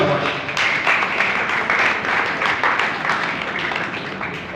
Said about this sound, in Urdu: ਇਹਨਾਂ ਦੀ ਜ਼ੋਰਦਾਰ ਤਾਲੀਆਂ